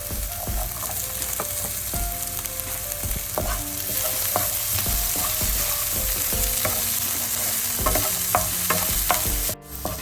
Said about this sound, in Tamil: இப்போ இந்த கடலை பருப்பு நல்லா பொரிஞ்சு வந்துடுது.